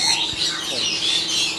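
A sun conure parrot in a large parrot breeding setup gives shrill, harsh squawks and chirps in a short burst, fairly close, with background chatter around it.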